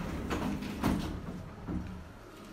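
Lift doors sliding open in a Southampton building, heard as a few soft, close rumbling thuds and a swish against a steady low hum, with no talk.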